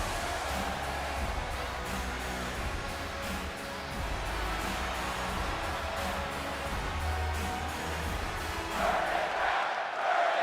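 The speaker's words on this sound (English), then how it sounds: "Very passionate crowd here tonight." Arena crowd noise in a WWE SmackDown video game, a loud continuous roar of cheering and chanting that holds steady throughout, swelling slightly near the end.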